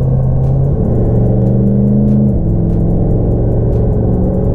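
A diesel truck engine drones loud and steady from inside the cab, its pitch stepping up as the throttle pedal is pressed further, with a constant rumble and whir and no talking.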